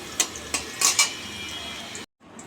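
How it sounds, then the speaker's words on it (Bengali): Large potato pieces fry in oil in a pan for a home-style chicken curry, with a low sizzle broken by several sharp clinks of a utensil against the pan before a brief drop to silence. "এই দেখো আলুগুলো ভেজে নিচ্ছি আমি"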